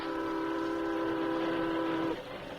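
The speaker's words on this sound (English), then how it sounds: "As you say, the train isn't slowing down at all." A steam-era train in a radio drama rushes ahead without slowing, a steady loud rumble carrying a sustained whistle-like tone that cuts off near the end and leaves a lower rumble.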